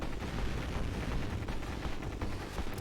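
Dense, continuous bursts of gunfire and explosions from the Contra video game rattle on without pause, loud and busy throughout with no talk over them.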